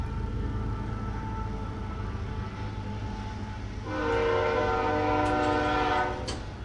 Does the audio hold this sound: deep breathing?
no